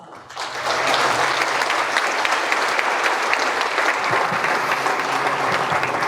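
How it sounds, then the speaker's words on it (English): A live audience gives a sustained, dense round of applause for a best-selling author and speaker on financial advisor collaboration, steady and full after a brief build-up. "So please, please give him a warm round of applause"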